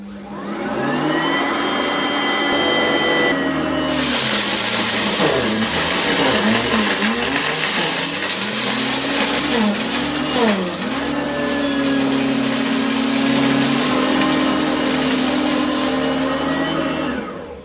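An Oreck HEPA swivel upright vacuum cleaner runs on carpet with a loud steady motor whine that dips and wavers in pitch as it is pushed back and forth, then steadies again.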